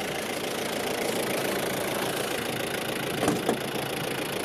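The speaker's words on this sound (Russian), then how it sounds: "дизельный мотор с интеркулером" A turbo diesel engine with intercooler in a 1994 Isuzu Bighorn 4WD runs at a steady idle nearby, its constant clattering drone broken by a brief knock near the end.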